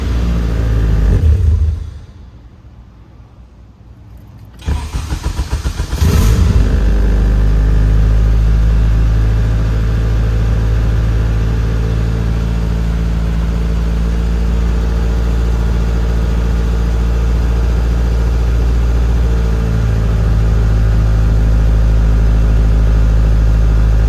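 A Honda B18C1 GSR engine in an EK coupe cranks after a brief quiet pause, catches, and settles into a loud, steady idle that runs on close up and alone.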